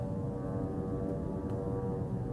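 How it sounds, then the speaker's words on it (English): Steady droning hum of a drone flying overhead in Gaza during wartime, a constant low engine buzz that stays even and moderately distant throughout. "The sound you hear, this is, you know, this is the drone."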